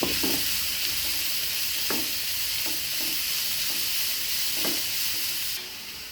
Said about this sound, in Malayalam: ക്യാബേജും ക്യാരറ്റും എല്ലാം കൂടെ കയ്യിലോട്ട് ഇട്ട് കൊടുത്ത് ഇനി ഒന്ന് ഇളക്കി